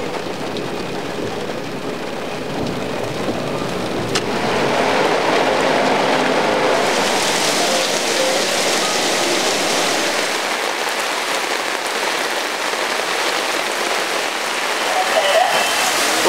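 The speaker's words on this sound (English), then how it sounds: "as you can see in Sri Lanka, it rains" Heavy rain falls in Sri Lanka, a steady dense hiss of drops on surfaces that swells louder partway through and continues for the whole stretch, with some talk mixed in.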